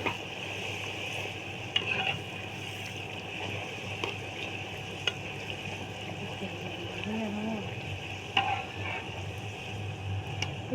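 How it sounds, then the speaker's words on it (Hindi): Puris fry in hot oil, making a steady bubbling sizzle with occasional clicks and stirring noises; voices are faintly heard in the background. "हम लोग पूड़ियाँ बना रहे हैं"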